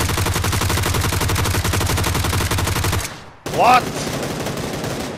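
Mini14 rifle fire in the PUBG video game: a rapid, loud burst of repeated gunshots for about three seconds, then a brief gap and a short sweeping game sound, with a player speaking briefly.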